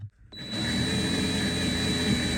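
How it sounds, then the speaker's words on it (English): A cordless drill spinning in reverse to back out a bolt, its motor starting after a brief silence and then whirring steadily and loudly at close range with no voices. "Probably better with the drill rather than the impact driver for this."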